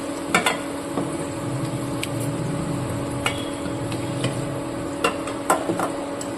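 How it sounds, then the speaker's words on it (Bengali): New potatoes fry until reddish in a pan of oil for a Bengali mutton kasha, giving a steady close hiss with scattered sharp clicks and taps of a utensil against the pan. "প্রথমে আলুগুলো লাল লাল করে ভেজে তুলে নিচ্ছি।"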